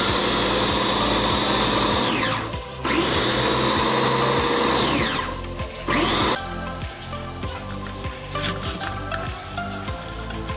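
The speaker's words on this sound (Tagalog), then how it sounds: "Medium size na blender" Medium-size food processor blender running loud and close, its motor whining steadily, cutting out twice and spinning back up, then winding down into rattling and clatter near the end.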